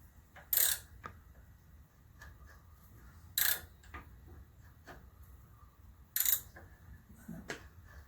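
A cutting tool, likely a chamber reamer, is turned clockwise by hand during a headspace repair on a Winchester 1897 shotgun. Soft ratcheting mechanical clicks come in three brief bursts, with quiet scraping and creaking in between.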